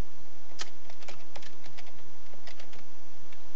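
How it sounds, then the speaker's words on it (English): A computer keyboard is typed on in short, irregular bursts, with crisp close key clicks spread over a few seconds as a file name is entered, against a faint steady hiss. "Type in your file name"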